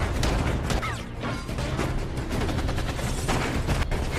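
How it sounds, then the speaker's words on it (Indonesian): Cartel gunfight in the Liam Neeson action film The Marksman, with dense, continuous bursts of gunfire and crashing impacts filling the whole stretch at high intensity. "hingga akhirnya terjadilah tembak-tembakan"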